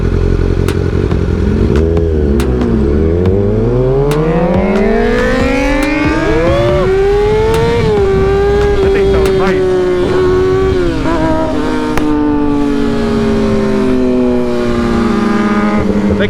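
A Kawasaki ZX6R sport bike with a straight pipe revs loudly up through the gears, its engine pitch sweeping steadily higher, holding, then dropping at a shift, with heavy wind rush throughout.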